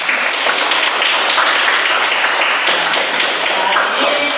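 A classroom group claps together in continuous, dense applause at close range, loud and sustained from start to finish with no gaps.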